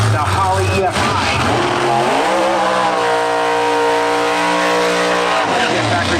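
A Factory Stock drag race car engine with Holley EFI starts, revs and roars up close at an NHRA event, its pitch climbing and holding steady before dropping off, loud throughout with no talk.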